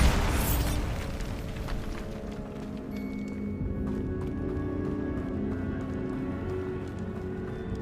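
A Bombarda blasting spell goes off in the Hogwarts Legacy video game near a rumored cave, opening with a sharp loud burst that decays into a sustained low rumble and layered game ambience, with no talking.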